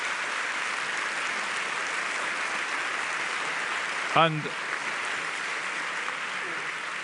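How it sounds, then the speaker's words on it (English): Sustained applause from a summit audience for a panel at the 50th Helsinki OSCE Summit, a steady broadband wash that continues throughout, with a brief spoken word cutting in midway. "please give our panel the very warmest applause"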